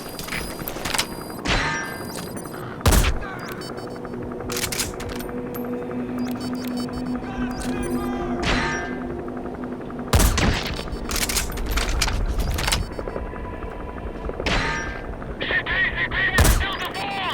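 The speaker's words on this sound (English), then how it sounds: "Taking enemy sniper fire!" Enemy sniper fire in Metal Gear Solid V, heard as sharp, loud, isolated shots cracking out at irregular intervals over a busy background of game ambience and tonal effects.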